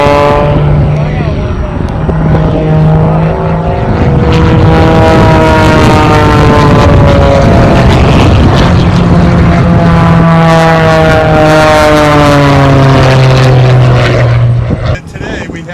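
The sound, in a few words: planes flying overhead at an air show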